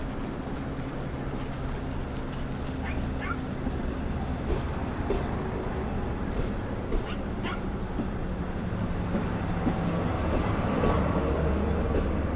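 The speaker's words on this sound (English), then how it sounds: "Okay, the train is now moving forward" Long Island Rail Road Train 16, the Cannonball, moves forward at the Westhampton platform at night, a steady broad rumble with faint squeals and a long thin high whine, heard at a distance.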